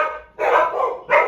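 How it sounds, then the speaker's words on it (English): Dogs in a home bark loudly and nearby, with a sustained burst and then another sharp bark. "Sorry about the dogs. I've got 3 dogs"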